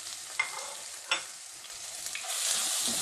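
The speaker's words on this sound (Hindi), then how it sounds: "इसको थोड़ा और फ्राई करेंगे" Green masala, coriander and turmeric frying in a pan hiss softly and evenly, broken by a couple of sharp spatula clicks against the pan, with no voices.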